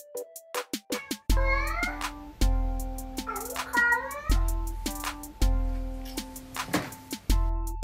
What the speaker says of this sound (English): Here's one of the biggest sensations by a talking sassy cat.